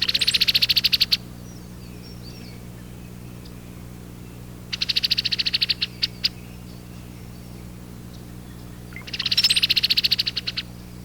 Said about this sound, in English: cowbird, who produces a liquid chatter. Sometimes, the female joins the male in a duet, overlapping her chatter call with the male's song.